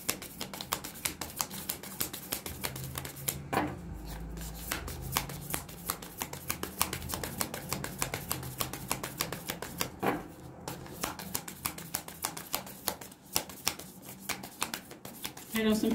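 A deck of tarot cards is shuffled continuously, with rapid riffling and soft flicking clicks that run close and fairly quiet throughout.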